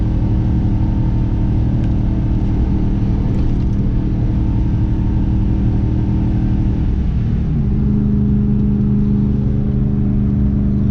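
Loud, steady engine drone inside a 2004 Chevrolet 2500HD pickup with a 6.0 gas engine at 195,000 miles, towing a small trailer up a mountain grade under heavy throttle, with the tone shifting slightly near the end.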